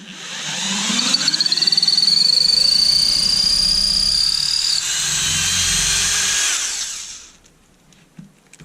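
An Erbauer 18V brushless drill bores into wood with a loud, close, high whine that holds steady for several seconds, shifts pitch, then winds down to silence.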